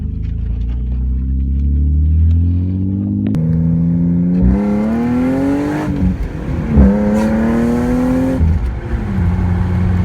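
A BMW E36 car engine revs and accelerates hard up close, the pitch climbing through several gears with brief drops at each shift, loud and steady from start to end.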